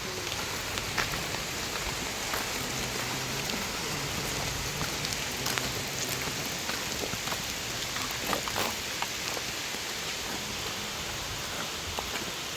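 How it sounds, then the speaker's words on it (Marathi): Heavy rain falling in a village, a constant dense patter on surfaces with frequent close drips and taps standing out over the steady wash. "पाऊस जो जोरातच आला."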